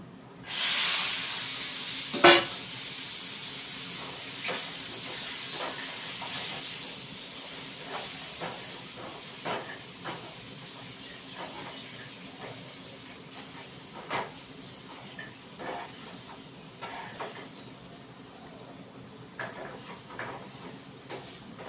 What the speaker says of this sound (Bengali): তেলটা গরম হয়ে গেছে বড়িগুলি এখন দিয়ে দিচ্ছি